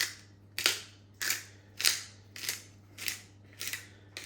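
A pepper grinder cranked over a shepherd's pie, producing seven evenly spaced crunching grinds about half a second apart, close and crisp over a low steady hum.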